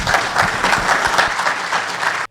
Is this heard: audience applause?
yes